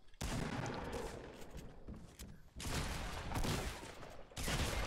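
Sustained bursts of gunfire in the battle royale game Fortnite, loud and dense, running almost without a break across the clip with one short gap midway.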